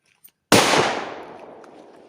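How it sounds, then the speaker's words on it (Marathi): A firecracker bomb goes off with a loud, sudden bang, then a long crackling, hissing decay that fades over about a second and a half, with a faint pop just before it. "बॉम्ब लावते हो."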